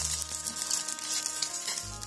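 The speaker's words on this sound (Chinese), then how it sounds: "锅热后加入适量食用油，再打入鸡蛋煎一下。" An egg fries in cooking oil in a hot pan, making a soft, continuous sizzling hiss with faint light crackles. It is quiet and close, with no speech.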